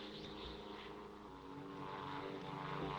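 A propeller airplane drones steadily overhead, its engine a continuous, fairly distant rumble that swells slightly toward the end.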